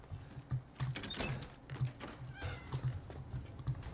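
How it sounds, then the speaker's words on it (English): A cat meows repeatedly in the video game Resident Evil Village, short mid-loud cries recurring irregularly through the scene alongside creaks and mechanical in-game sounds. "I keep hearing a cat."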